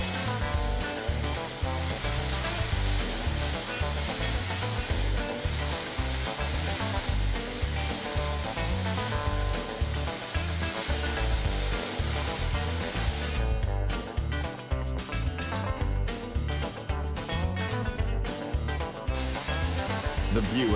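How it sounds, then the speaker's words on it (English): A loud, steady grinding whir from a drill-powered grinder sharpening a knife runs throughout, with a rasping, pulsing texture in the later half. "Knife sharpening is possible like this"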